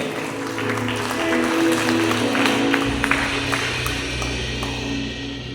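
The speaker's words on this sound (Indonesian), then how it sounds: "kita beri aplaus untuk kedua mempelai ini" Applause for the bride and groom at a wedding held in a house, a small crowd clapping steadily for several seconds alongside a low hum and some voices.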